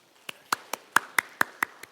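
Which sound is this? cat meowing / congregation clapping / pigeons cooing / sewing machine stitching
congregation clapping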